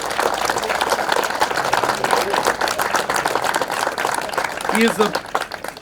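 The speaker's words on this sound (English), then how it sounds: "Can we give Sean a round of applause?" An audience at an elementary school ribbon-cutting applauds the new principal, a dense, steady patter of clapping hands filling the space with a voice briefly audible toward the end.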